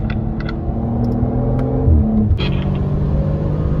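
An Audi RS performance car powers out of a corner on a race track, its engine a loud, steady close-up roar with a gear-change dip midway before the revs build again.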